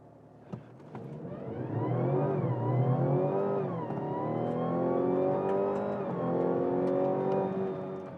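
A 2023 Mazda CX-60 PHEV plug-in hybrid SUV accelerates hard from 0 to 100 km/h, its engine note climbing steadily in pitch with a few brief dips at gear changes, loud and sustained from start to finish.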